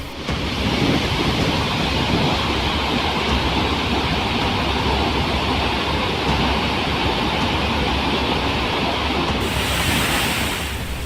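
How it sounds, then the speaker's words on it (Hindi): Floodwater gushes over a waterfall at Mahadev Khoh in the Kaimur hills after torrential rain, a loud, dense, unbroken roar filling the whole clip without any voices. "अपार जल सैलाब की तरह झरने के नीचे गिर रहा है"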